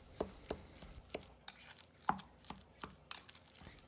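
Ground meat wonton filling being mixed, heard as close, evenly spaced wet slaps and squishes that repeat at a steady rhythm, quiet, with no talk.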